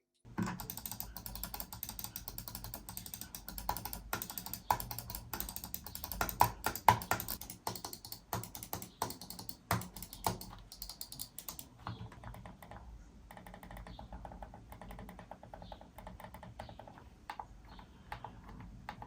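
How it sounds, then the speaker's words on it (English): Logitech MX Master mouse buttons click in rapid, irregular runs of light, close taps that thin out toward the end. "The quieter clicks on all of this button are a good update."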